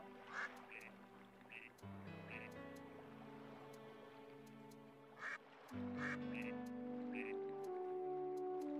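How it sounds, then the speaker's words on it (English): Ducks quacking in The Legend of Zelda: Twilight Princess, several short nasal quacks in scattered bursts over steady game music, with no talking. "Can you hear the duckies quack?"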